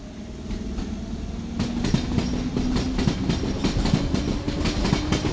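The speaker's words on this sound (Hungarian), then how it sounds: "pont most megy el a hév" A HÉV suburban train passes close by on its way toward Tököl, its wheels clattering in a steady clickety-clack rhythm as the rumble swells and holds loud, with no voices over it.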